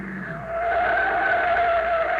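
A car skids out onto a field in an old-time radio drama effect: a loud, sustained tire squeal over a steady engine roar, lasting throughout.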